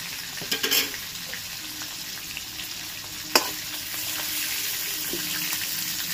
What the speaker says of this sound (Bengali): চিকেনটাকে আবার ভালো করে ভাজতে হবে